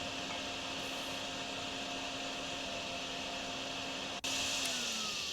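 A vacuum cleaner in the Drain Sim video game runs with a steady, loud whir and hum, cutting out briefly near the end before resuming at a brighter pitch.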